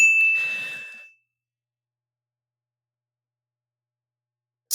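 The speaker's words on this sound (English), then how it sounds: "That deserves a bell." A bell sound effect gives a single bright ding that rings out and decays over about a second, then leaves silence.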